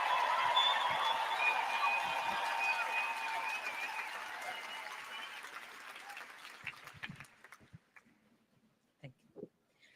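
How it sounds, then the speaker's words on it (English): Audience applause and cheering for a Palestinian artist from Gaza at a live event, loud and sustained from the start, then fading out around eight seconds, leaving a few scattered claps and faint noises. "Round of applause!"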